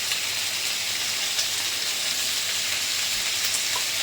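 Potato, eggplant and okra fry in a pan with a steady, dense sizzle and crackle that runs unbroken and fairly close, with no voices over it.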